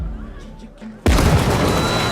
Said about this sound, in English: Charlie has already set up an explosion in the bathroom to allow him to escape